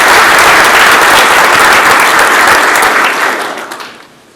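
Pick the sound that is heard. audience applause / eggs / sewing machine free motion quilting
audience applause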